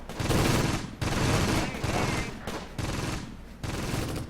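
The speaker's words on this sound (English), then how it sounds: "Got every single gun in this area firing at this point just to try and score a hit." Massed gunfire in the Close Combat: Gateway to Caen video game, dense bursts of shots in loud clustered volleys separated by brief gaps, with a voice talking over it.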